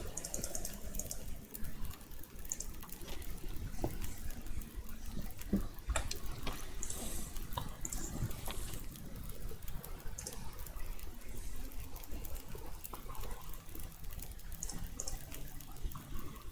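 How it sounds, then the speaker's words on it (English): Water boiling in The Long Dark survival game gives a steady, even bubbling hiss that runs unbroken and moderately loud from start to finish, with no talking. "let's boil up some water"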